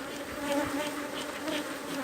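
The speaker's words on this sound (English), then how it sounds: "get the bees, all the bees that are outside doing nothing" Honeybees swarm around a hive being split, giving a dense, continuous, close buzzing drone that hums steadily without a break.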